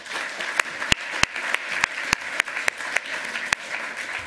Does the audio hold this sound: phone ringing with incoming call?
no